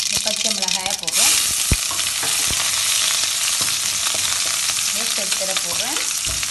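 Green chillies hitting hot oil with popped mustard seeds in a pan for tempering curd rice, a loud, steady sizzle with scraping stirs and a few sharp clinks, close by and without talk.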